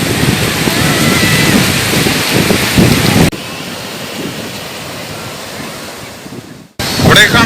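Sea surf rolls onto the crowded beach at Snehatheeram, Vadanappilly, as a continuous roar mixed with heavy wind buffeting the microphone. The recording cuts abruptly between shots.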